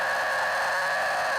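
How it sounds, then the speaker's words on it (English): A pitched scream vocal layer from a nu-metal chorus mix holds one strained, sustained high tone over a dense, distorted band wash. The burst is short, loud and close. "there's also this pitched scream thing going on"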